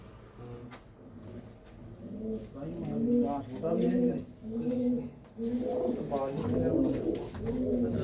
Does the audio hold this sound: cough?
no